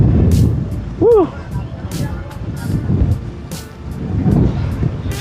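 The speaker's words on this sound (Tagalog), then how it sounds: "Kaya lakas ng hangin, tinutulak ako." Steady wind roars and buffets across the whole stretch, low and rumbling, at a scenic viewpoint on Jomalig Island, with speech-like voices and a brief whistling sound partway through.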